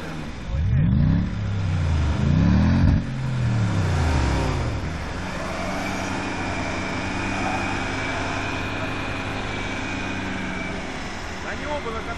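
A car engine revs up hard in rising and falling sweeps while straining on a tow rope, then drones steadily at high pitch against the rev limiter; a voice talks faintly over it.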